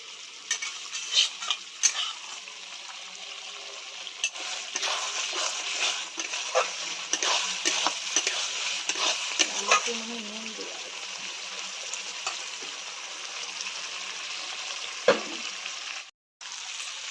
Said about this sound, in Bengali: আলুটা দিয়ে কষাবো ভালো করে